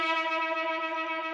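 Two guitar strings ring together as a sustained harmonic tone during tuning, clear and fairly quiet, with a gentle wavering beat.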